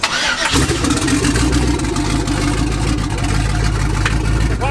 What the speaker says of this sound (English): let's see if it starts, I guess.